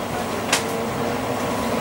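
Crossrail Class 345 train running between Liverpool Street and Shenfield, a steady, moderately loud interior hum and rumble with a brief hiss partway through.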